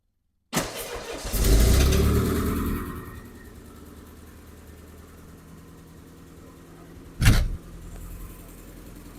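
A car engine cranks and catches after the fuel pump primes, roaring up loudly before settling into a steady low idle, with a brief sharp rev burst near the end.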